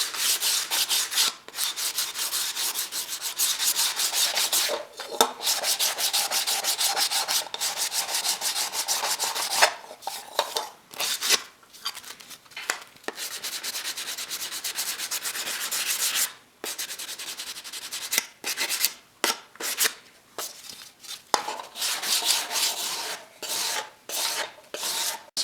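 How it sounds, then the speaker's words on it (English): Hand sanding of a motorcycle fender with sandpaper, a steady close rasping scrape in long continuous strokes broken by brief pauses, no voices. "go straight to sandpaper again"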